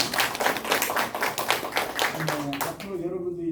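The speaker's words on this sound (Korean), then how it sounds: "우리 선생님들을 위해서 힘찬 경의의 박수" Children and guests at a youth mentoring program graduation clap for their teachers, a brisk burst of close, loud clapping that quickly dies down as voices come in.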